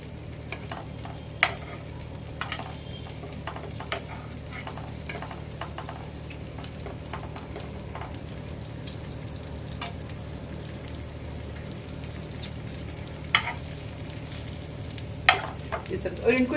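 Pieces of bitter gourd sizzle steadily in a wide flat pan, with occasional sharp clicks and scrapes as tongs turn them over.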